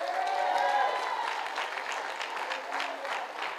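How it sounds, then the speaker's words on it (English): Church congregation applauding, a steady broad wash of clapping hands throughout, with a few voices cheering over it. "you better start clapping"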